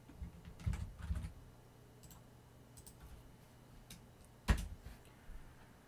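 A few sparse keystrokes on a computer keyboard while entering a terminal command to source a ROS environment, a handful of soft clicks near the start and one sharper tap later, otherwise quiet.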